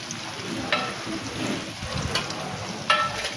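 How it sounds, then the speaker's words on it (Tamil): Finely cut shallots and green chilies sauté in oil for shallot rice, a close, even sizzle broken by a few sharp clicks of a spatula against the pan. "கட் பண்ணி நல்லா வதங்கட்டும். எண்ணெயிலே நல்லா வதங்கட்டும்"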